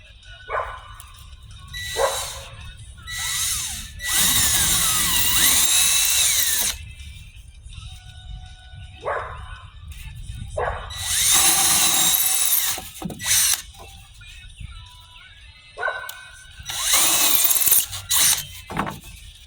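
A power drill bores a ring of holes in a homemade case for storing paint bottles, whining in several loud bursts separated by pauses, with a dog barking now and then between the drilling.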